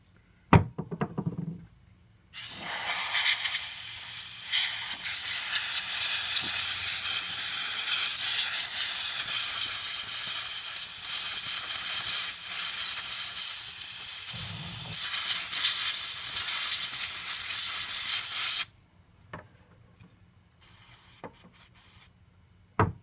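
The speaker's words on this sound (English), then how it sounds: "A regular can of carburetor cleaner will work." An aerosol can of carburetor cleaner sprays a long, continuous hiss lasting about sixteen seconds, close and fairly loud, while cleaning a Dolmar chainsaw carburetor, with brief knocks and handling sounds before and after.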